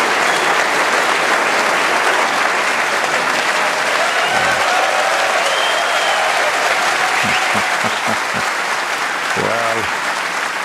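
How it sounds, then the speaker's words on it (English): Crowd applause at the 2023 World Snooker Championship semi-final after a thin shot, a broad sustained clapping wash from a large arena audience filling the whole stretch, with a few brief voices poking through near the end. "what a round of applause for that shot"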